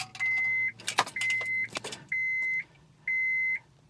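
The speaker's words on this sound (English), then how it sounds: "before I do, I'm gonna turn the key to the on position" Four evenly spaced electronic chime tones sound as the ignition key of a car that won't crank is turned to the on position, each a clear steady beep with short gaps, over faint background clicks and rustle.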